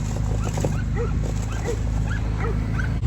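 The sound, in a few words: dogs barking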